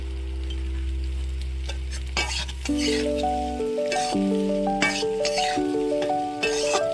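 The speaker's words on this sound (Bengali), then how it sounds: "তারপর ভালো করে আবার একটু কষিয়ে নেব।" Drumstick stems cooking with turmeric and spice paste in a pan, a steady moderate sizzle with occasional stirring scrapes, a low hum that cuts out partway, and light music in the second half.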